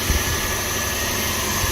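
A 2006 Toyota Tundra SR5 pickup idling slightly high just after starting, a steady, even engine hum heard up close with no talking over it.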